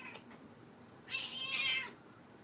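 A cat gives a single clear, fairly loud meow after a faint earlier chirp, with quiet room background and no talking.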